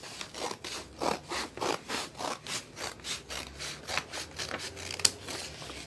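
Scissors cutting folded textured cardstock to length, a steady series of about a dozen rhythmic rasping snips, close and fairly quiet, with no talking.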